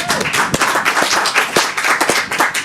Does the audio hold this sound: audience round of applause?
yes